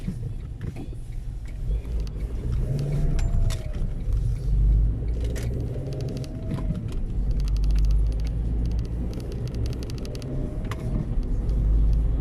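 A car drives steadily along national road 8 in Poland toward Wrocław, a continuous low engine and tyre rumble with passing traffic swells and no talking.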